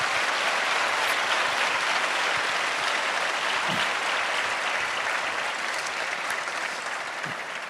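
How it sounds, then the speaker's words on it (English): Sustained, loud audience applause at a world cultural festival, a dense crowd of clapping hands holding steady for several seconds without speech. "you should give a round of applause to them"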